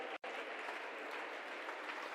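A church congregation applauds during a Spanish-language worship service, a steady, dense wash of clapping that fills the whole clip after a brief silent gap at the very start.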